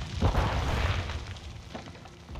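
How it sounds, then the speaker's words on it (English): Flash grenade detonating in Call of Duty on the Border Crossing map, a single muffled boom near the start that fades into a low rumble, with a faint second thump shortly after. "Throwing flash grenade."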